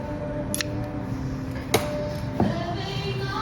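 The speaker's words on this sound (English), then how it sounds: "I'll just get my scissors" Scissors snip brown thread from a sewing machine bobbin, two or three sharp metallic clicks spaced apart over a steady low room hum, close by and fairly quiet.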